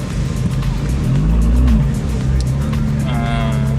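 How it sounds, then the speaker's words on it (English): Ferrari sports car on a busy Monaco street, a loud engine roar that swells and fades as it passes close by, amid city traffic and crowd noise. "Ferrari."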